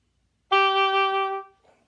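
Single sustained oboe note with an unintentional accent, starting with a sharp, loud attack that holds steady for about a second before fading, played alone with no talk.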